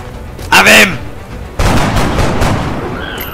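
A gunshot in the video game XCOM: Enemy Unknown: a short, loud burst of game combat noise followed by sustained rumbling effects, with a voice briefly over the start.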